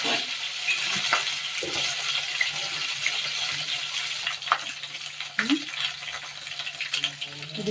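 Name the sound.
masala frying in pan for paneer curry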